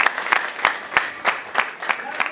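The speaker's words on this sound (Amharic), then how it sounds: "አጨብጭቡለት።" A church congregation clapping in a steady rhythm, about eight sharp beats spaced roughly a third of a second apart, moderately close and alone.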